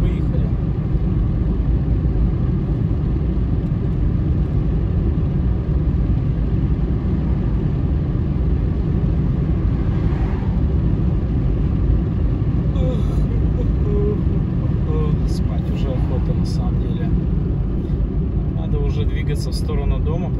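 Car driving at night on a road near Koltsovo and the Siberian Tract in Yekaterinburg, a steady low engine and road rumble from inside the car, with people talking over it.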